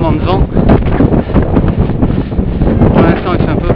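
Strong gusting wind buffets the microphone on a high mountain pass near the col de Chécrouy, a loud continuous roar with rustling bursts and a voice talking over it.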